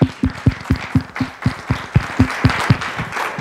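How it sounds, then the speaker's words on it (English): An audience applauds presenters at the end of a talk session on ethical eating, with rhythmic, fairly loud clapping that carries on for a few seconds. "Can we give them all another round of applause?"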